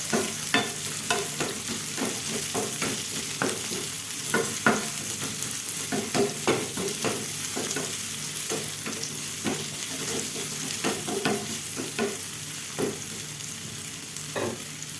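Thinly sliced onion and vegetables fry in a pan, with a constant sizzle under frequent, uneven scraping strokes from a spatula, close up and fairly quiet.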